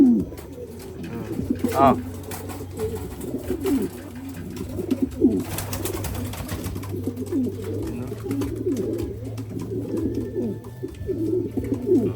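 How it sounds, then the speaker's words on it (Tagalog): A Borga black check pigeon coos repeatedly in soft low rolling phrases, close by, with a steady low hum underneath and a person briefly speaking and exclaiming at times. "Sino may ganitong kalapati mga kalapatids?"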